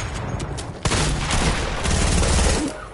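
Video game gunfire crackles in rapid, overlapping bursts, loud and sustained, with a sharp heavier shot near the start of the volley and continuous firing after it.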